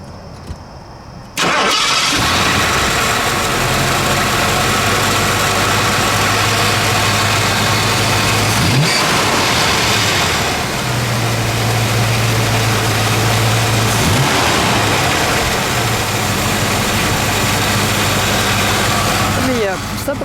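A 1978 Ford Thunderbird engine starts and idles with a steady rumble, then revs up a few times before settling back, loud and close.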